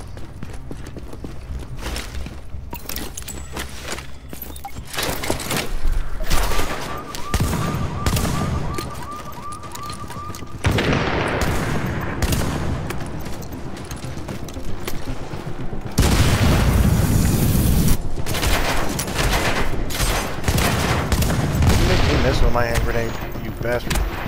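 Video game combat with grenade launcher blasts and rapid turret fire, dense booms and bursts of shots layered loudly throughout, with a voice talking over parts of it.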